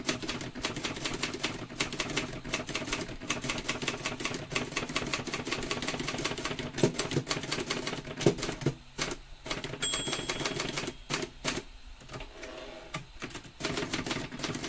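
A manual typewriter is typed on steadily, with rapid close, sharp key strikes in uneven bursts, broken by pauses and the ratcheting sweep of carriage returns.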